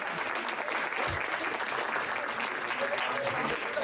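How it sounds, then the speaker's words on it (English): Sustained applause from an audience at a policy hackathon's final presentations, steady dense clapping that holds at an even level for several seconds. "Please join us in giving another round of applause to all of our health group"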